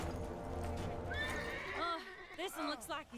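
A horse in the Lego Marvel Superheroes 2 video game gives a long, wavering whinny over a busy game soundscape with clip-clopping hooves, the neigh rising and trembling before fading out.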